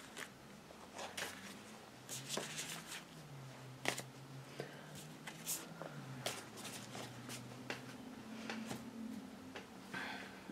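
Tarot cards are gathered and shuffled close by in a quiet room, a soft run of papery flicks, riffles and light taps that come in irregular bursts.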